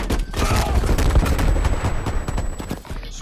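Rapid video game gunfire in a multiplayer shooter, a dense, loud burst of overlapping shots with sharp cracks rattling continuously for about three seconds before easing off.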